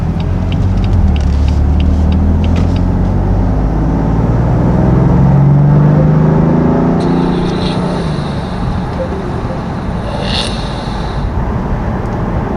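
A 2020 BMW M4 Convertible's engine pulls hard under acceleration, a loud deep rumble rising in pitch from inside the car and then settling to a steady drone with road noise.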